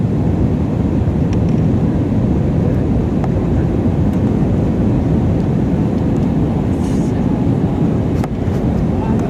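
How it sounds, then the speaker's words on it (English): Heavy, continuous roar of an airplane landing with almost no visibility, a dense broadband rumble of engine and wind noise that holds steady throughout, with a few brief clicks near the end. "This plane landing with almost no visibility."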